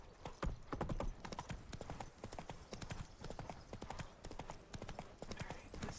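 Roach, a horse in The Witcher 3: Wild Hunt, galloping with a fast, steady rhythm of hoofbeats throughout, clear and close at a moderate level.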